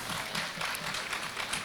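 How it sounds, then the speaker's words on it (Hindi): An audience at a Hindi-Urdu women's poetry recital at the Jashn-e-Adab 2023 festival claps steadily, a dense, even wash of applause at moderate volume with no voices over it. "जिस तरह से आप ताली बजा रहे हैं"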